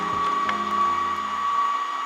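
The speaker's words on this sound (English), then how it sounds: "I recommend turning your stand mixer down a little bit so it doesn't fly everywhere" A stand mixer runs steadily, beating frosting as powdered sugar is added, a constant close motor whine with a brief bump near the start, heard alone.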